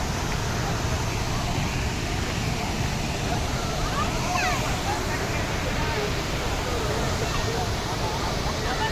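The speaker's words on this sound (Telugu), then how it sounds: "ఇప్పుడు వాటర్ ఫాల్ చూపిస్తాను" Waterfall in Lakshadweep pouring down in three streams, heard as a steady, dense rush of falling water that fills the whole scene evenly, with wind buffeting the microphone and a person talking over it.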